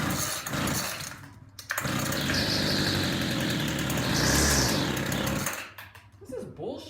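A WeedEater FX26C string trimmer with a new carburetor runs loud and close, its two-stroke engine buzzing roughly and surging as it struggles to idle, then dropping off near the end.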